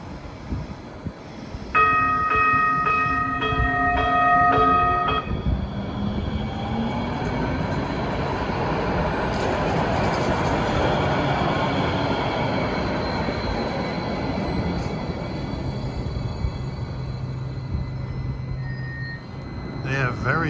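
A New Jersey Transit Hudson Bergen light rail train runs close by, its electronic whistle sounding a bright tonal burst early on, then a steady rolling rumble with a faint high squeal near the end.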